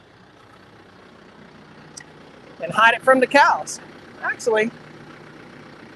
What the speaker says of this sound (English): So let's hop in the tractor, take this hay bale over here